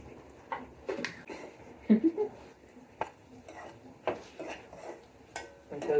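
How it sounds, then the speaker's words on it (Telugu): A knife cuts green chillies for a chicken dish, making a few sharp, irregular taps against the board amid light kitchen clatter, close and fairly soft. "ఓకే మిర్చి కట్ చేద్దాం. మనం కట్ చేసి ఇలా తీసుకుందాం."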